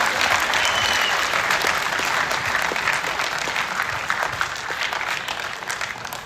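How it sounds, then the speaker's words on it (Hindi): Loud, sustained applause from an audience after a college play, dense clapping for the council that holds steady and slowly tapers over several seconds. "इनके लिए भी एक बार जोरदार तालियां"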